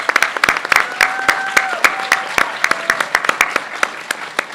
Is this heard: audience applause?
yes